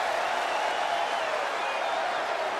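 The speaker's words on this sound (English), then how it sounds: "Masha soaking in the cheers of the crowd here at the Fantasy Warfare Arena here this week." Loud, sustained cheering from a rowdy wrestling arena crowd in the WWE 2K23 video game, a continuous dense roar filling the whole moment without talk.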